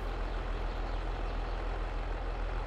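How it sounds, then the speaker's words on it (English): Steady low tractor engine drone in Farming Simulator 22, set on a Wyoming farm, running continuously at close range with a constant rumble and no speech. "This tractor is so nice."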